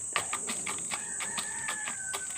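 Young chickens and roosters in a backyard flock: faint, near clucks and short crowing-like calls over a constant high insect drone, with scattered soft rhythmic taps and no talking.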